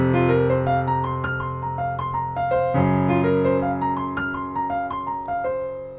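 A three-note pentatonic pattern in fourths, played left-handed on a melodic instrument, rises and falls in a steady repeating rhythm, clear and close with no talking.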